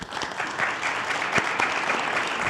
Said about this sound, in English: So kind of give him a round of applause